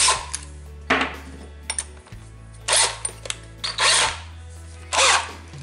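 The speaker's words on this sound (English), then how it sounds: "I'm going to grab my trusty cordless drill" Short bursts of a cordless drill on low speed whirring on and off over a low steady hum, several quick pulses close by, while twisting stainless steel wire into a fork.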